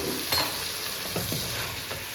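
Chicken sizzles steadily in a pan, salted and cooking down over a low flame, with a continuous close hiss broken by a few soft stirring scrapes.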